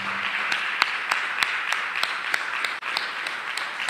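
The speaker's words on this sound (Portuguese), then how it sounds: "dê a sua melhor salva de palmas para o nosso Deus" A church congregation applauds during a Portuguese-language worship service, a steady wash of clapping with a few sharper claps standing out, sustained throughout.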